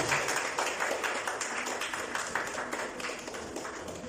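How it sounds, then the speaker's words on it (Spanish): Church congregation applauding during a Spanish-language sermon, a dense patter of many hands clapping at moderate distance, steady for the whole stretch before gradually thinning slightly. "Denle un fuerte aplauso al Rey de Reyes y Señor de Señores."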